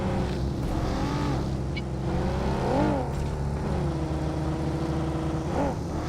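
A vehicle engine in a video game hums steadily as it drives, with a few rising and falling revs, moderately loud and continuous throughout.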